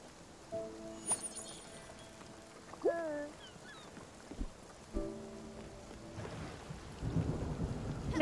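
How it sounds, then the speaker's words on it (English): Rain patters and thunder rumbles in the Spiritfarer video game, with deep thunder swells rising near the end, mixed with soft in-game tones and chimes at a moderate level. "A lightning storm."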